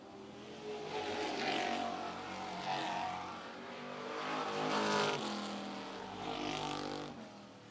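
Street stock cars racing at a speedway during a 30-lap feature at Mt. Lawn Speedway make a distant engine roar that swells and fades in repeated waves as the pack laps the track.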